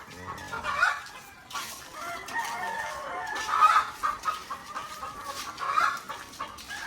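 Chickens clucking at a poultry farm, with hens and roosters calling in bursts over a steady, busy background of flock noise; a rooster crows faintly at times, and several birds sound close.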